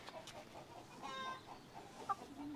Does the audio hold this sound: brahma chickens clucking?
yes